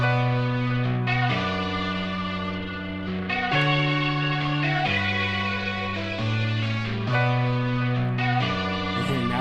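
Piano chords play in a slow sequence, each chord's notes entering slightly late to give a strummed effect, sustained and clear with no talking over them.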